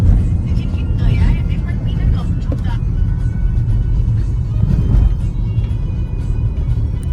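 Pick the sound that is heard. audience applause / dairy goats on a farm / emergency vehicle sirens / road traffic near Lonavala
road traffic near Lonavala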